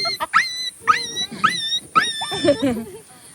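A person imitates a yelping dog with a string of high, sharp yelps and whimpers, several quick bursts followed by lower whining sounds.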